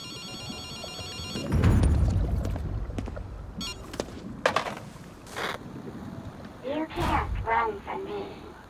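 In the Ghostwire: Tokyo video game, a phone rings in repeated bursts, fairly faint and mixed with game effects and ambient sounds, while a person talks intermittently.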